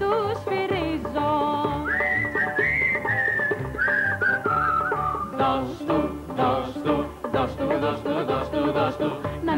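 A melodic whistled tune rises and falls over a musical backing in a 1982 Greek song, the whistling bright and sustained for several seconds before the accompaniment carries on.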